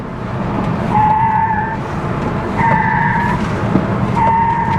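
Tires of a Rivian R1T electric pickup squeal during a quick lane change at 35 mph: three separate high-pitched tonal squeals with short gaps between them, loud and close over steady road and cabin rumble.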